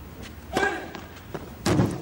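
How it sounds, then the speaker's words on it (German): A powerful tennis smash in a professional match, two sharp thuds of ball and racket impact, moderately loud, with a faint commentator voice around them. "Gewaltiger Schmetterschlag."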